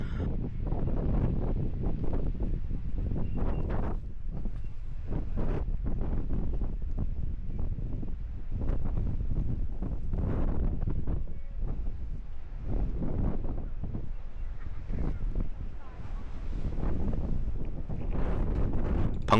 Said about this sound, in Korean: 방문 당시에도 강한 바람이 지속적으로 불고 있었습니다.